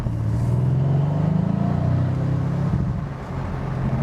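Mercedes-AMG C63 S V8 convertible (2017, 510 hp) driving normally on a public road; a close, moderately loud engine drone rises in pitch then settles, with no talking.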